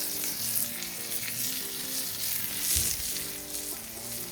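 A steak fries in butter with rosemary and garlic on a shovel, hissing in a loud, continuous sizzle up close, with one brief knock partway through and no speech.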